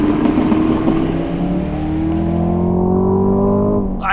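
A 2024 Camaro Collector Edition engine winding down from a loud, close rev into a smooth, settling drone, with no talking.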